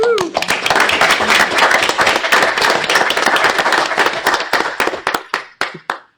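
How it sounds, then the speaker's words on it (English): Applause from a modest group at a Clewiston, Florida city commission meeting: brisk, close hand clapping that holds for about five seconds, then thins into a few scattered final claps. "I wish you would join me in giving them all a round of applause"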